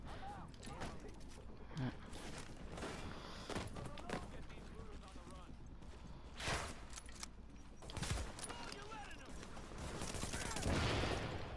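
Gunfire in The Division, a shooter video game, comes as scattered shots and bursts mixed with game effects and a louder stretch near the end, heard under a talking player.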